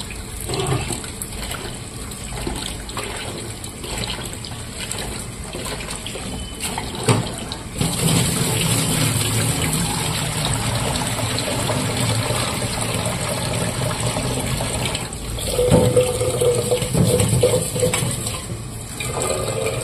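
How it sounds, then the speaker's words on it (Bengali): Running water splashes steadily as rice is washed, a continuous rushing stream with a louder surge midway, close and alone. "চাল ধোয়া হয়ে গেছে"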